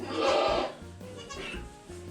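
A goat bleats loudly in a farm pen where a doe recently gave birth to triplets, one strong, drawn-out call followed by quieter animal sounds and movement nearby.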